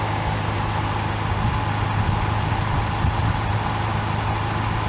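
A car engine idles steadily with a failing alternator, giving an even, continuous low hum and drone at close range with no change in pace and no voices.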